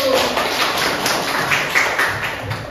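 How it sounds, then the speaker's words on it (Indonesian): Classroom applause for a student group after their presentation, a dense steady patter of many hands clapping together for a few seconds, fairly close and without talk. "beri tepuk tangan untuk kelompok 1"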